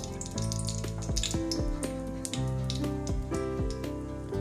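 Bay leaf and star anise dropped into hot oil, sizzling and popping steadily beneath a tonal, music-like background that runs throughout.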